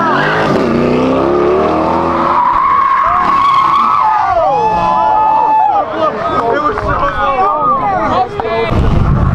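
A Corvette C8 sports car takes a corner hard at a supercar gathering at sunset, tires squealing and skidding loudly at length over engine noise and wind buffeting, with people shouting and talking throughout.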